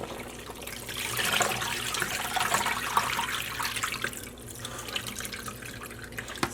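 Dye liquid draining from a pot while dyeing grey merino wool and white silk roving, a soft continuous pouring and trickling splash, faint and steady with no speech.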